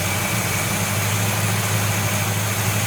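A 1970 Buick Wildcat engine idles up close, a loud, steady low rumble with an even drone and no talking.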